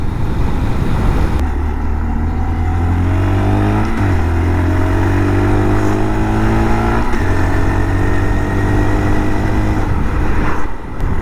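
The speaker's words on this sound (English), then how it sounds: "It's just full throttle each gear. Just brap, brap, brap." A mini bike engine is held at full throttle, loud and close, revving up through successive gears with rising whine and brief dips at each shift on a residential street.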